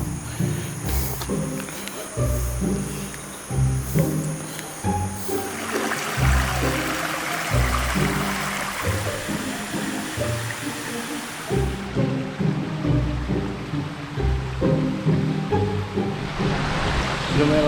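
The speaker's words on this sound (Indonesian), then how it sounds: "Lumayan lembah nih aliran sungai." A river in a valley on a hike to the Curug Mariuk and Curug Cibaliung waterfalls, rushing steadily and loudly through the whole stretch, with occasional lower knocks and rustles close by.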